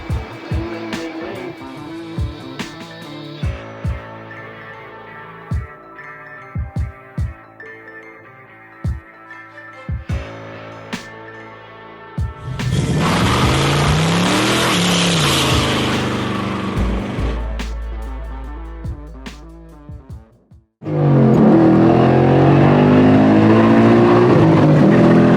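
A 2021 Ford Mustang accelerates hard through its gears, its engine note climbing loudly through a long pull after a quieter stretch of scattered clicks and tones, then surging again near the end.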